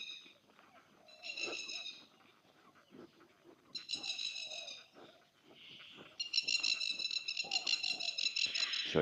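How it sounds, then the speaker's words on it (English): Plovers call from a street tree near a bus stop in Innisfail, giving repeated rapid, rattling high calls in bursts that grow louder and more continuous toward the end, over faint outdoor background noise. "A lot of plovers going off their tree."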